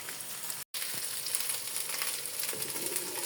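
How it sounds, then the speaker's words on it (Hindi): Minced meat with okra and onion sizzling in a pan, a steady close hiss of frying with faint stirring scrapes and one brief gap. "कीमा भी भून रहे हैं और भिंडी प्याज बन रही है।"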